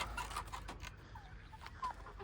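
Backyard chickens clucking faintly in short, scattered calls over low background noise outdoors in a spring garden.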